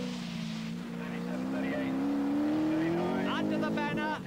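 A 1983 rally car driving a rally stage, its engine note climbing steadily as it approaches the last corner, heard from the roadside alongside crowd and background noise.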